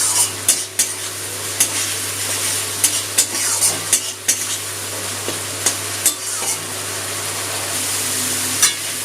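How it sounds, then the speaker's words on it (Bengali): Spiced tomato masala stirred with a metal spatula in a pan for a vegetarian khichuri, steady sizzling frying with repeated scraping clinks and taps of the utensil against the pan, close and clear with no talking. "আর টমেটোটাও একটুখানি খুন্তি দিয়ে একটুখানি ঘেটে দেবো"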